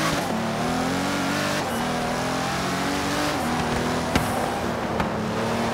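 A Lamborghini racing car's engine in the Forza Horizon 3 video game drones at a constant high pitch, loud and continuous, with faint clicks and bumps over it and no speech.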